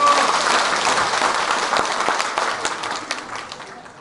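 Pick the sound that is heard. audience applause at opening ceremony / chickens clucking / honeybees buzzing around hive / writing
audience applause at opening ceremony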